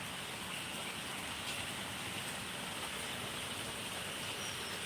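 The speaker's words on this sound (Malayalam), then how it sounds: "മഴ ഒന്ന് കുറഞ്ഞിട്ടുണ്ട് കേട്ടോ" Steady, even monsoon rain hisses continuously at moderate volume, a dense wash of sound with no pauses and no voices.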